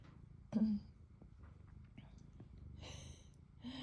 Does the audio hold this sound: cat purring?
yes